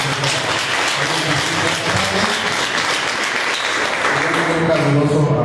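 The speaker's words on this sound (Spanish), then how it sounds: "Un aplauso." Church congregation applauding during a Sunday service to welcome a new member; steady clapping runs under voices and background murmur for the whole stretch.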